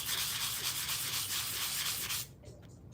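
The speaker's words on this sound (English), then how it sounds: "Sand it down to prep that acrylic." Sandpaper rubbing over an acrylic craft piece in steady, brisk back-and-forth strokes, close and scratchy, stopping abruptly near the end.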